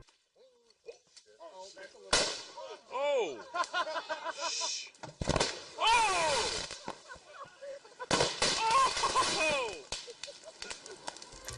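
Several sharp explosive bangs with bursts of spray as a block of sodium reacts in lake water, separated by pauses, while people nearby exclaim and react loudly.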